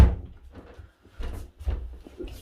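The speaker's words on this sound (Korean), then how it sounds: "이제 문을 닫고요" The wooden door of a hinoki cypress sauna room bumps shut close by with a solid knock, followed by a few softer handling thuds and movement sounds.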